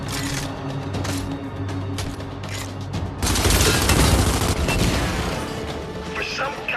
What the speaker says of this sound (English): using blind fire to destroy them while keeping yourself protected and cover